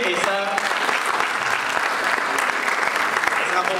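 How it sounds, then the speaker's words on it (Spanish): Audience applause for Javier and Natalia at a UCIC event, a brisk, continuous patter of many hands clapping at close range, with some voices underneath. "Un aplauso finalmente para Javier y para Natalia también"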